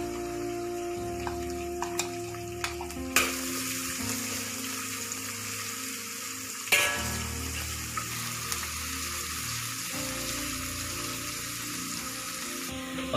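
Garlic and onion fry in a pan with a steady broadband sizzle throughout, punctuated by a couple of sharp clatters as they are stirred, close and moderately loud with no talking.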